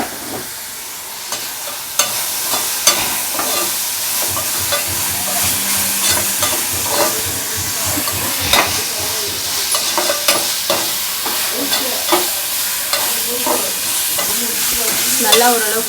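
Onions fry in a pan for an egg curry, a constant crackling sizzle under repeated spatula scrapes and clicks against the metal, loud and close, with no speech.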